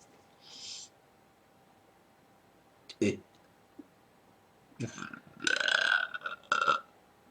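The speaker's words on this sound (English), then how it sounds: "Burping time." A girl lets out a loud, deep burp partway through, with a few quieter sounds and some talking around it.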